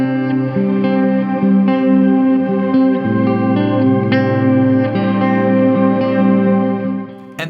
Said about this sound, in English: reverse delay into a shimmer or octave up reverb